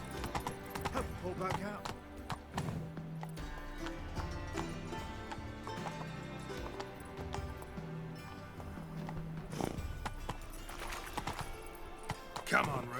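Geralt's horse Roach gallops in The Witcher 3, a steady clip-clop of hooves running through game music and ambience, with a voice speaking over it.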